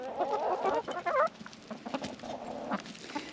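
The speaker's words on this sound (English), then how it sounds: "Now, are the chickens pets?" Backyard homestead chickens being fed sunflower seeds cluck and chatter close by, a busy overlapping run of short clucks and squawks, louder at the start and then continuing more softly.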